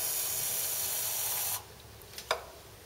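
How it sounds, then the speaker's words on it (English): WD-40 sprayed into the spark plug hole of a Ford F250 Super Duty 6.8L engine: a steady close hiss of aerosol lasting about a second and a half, then two brief faint spurts. "I like to fill this hole just a little bit with WD-40,"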